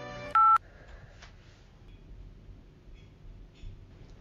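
Keypad entry tones for a garage pin code sound in a comedy sketch: a short cluster of electronic beeps, one loud and sustained, followed by faint room quiet with a few soft clicks.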